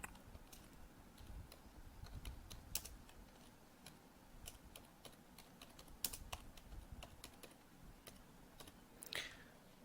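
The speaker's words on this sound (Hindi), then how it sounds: "जैसे ही हमने कंपनी का नाम टाइप किया" Someone types a company name on a computer keyboard during setup in Tally accounting software: quiet, irregular key taps and clicks, a few sharper strokes, with soft background hiss and no talking.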